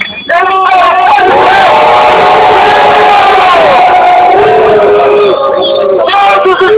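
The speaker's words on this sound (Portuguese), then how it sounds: "Eu vou convidar vocês também a darem uma grande vaia nos nossos vereadores" A large protest crowd in Nova Iguaçu, Brazil, jeers at city councillors, a loud sustained roar of many voices with shouts and whoops rising and falling, rather than distinct boos, swelling steadily from start to finish.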